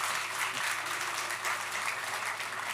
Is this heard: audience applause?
yes